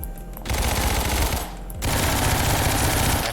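Rapid automatic bursts from an SMG or machine pistol in the video game Ragdoll Universe, two loud sustained strings of fast shots separated by a short pause, harsh and close.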